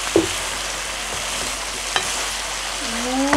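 Chicken sautéing in a pan as it turns golden brown, a loud continuous sizzle and hiss with a couple of spoon scrapes, and a short tonal squeak near the end.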